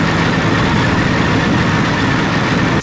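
A fighter plane's aircraft engine roars in IL-2 Cliffs of Dover, a loud, steady, dense drone with a low rumble, unbroken and close throughout, with no voices.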